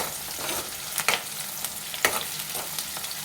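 Onions frying with salt in a pan for a masala chicken curry, stirred with a spoon: steady sizzle under a few sharp scraping knocks against the pan, close and moderately loud, no talking.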